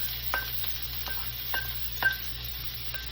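Onions sizzle in a hot pan for a chicken Alfredo dish, a steady soft hiss with a few sharp scraping or stirring clicks spaced through it.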